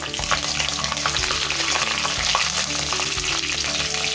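Green chillies and fenugreek seeds crackling in hot coconut oil for a Kerala prawn curry, a dense, loud, close sizzle with no pauses or voices.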